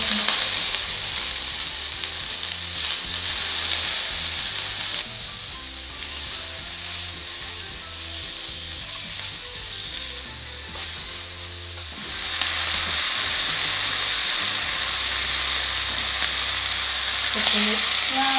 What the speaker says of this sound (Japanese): これで少しだけね、お肉焼きますね